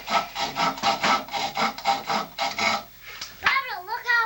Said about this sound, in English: You gotta keep sawing.